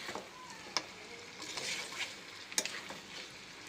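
Ginger and garlic sautéing in oil, a faint steady sizzle with soft stirring scrapes and two brief metallic taps from the utensil against the pan.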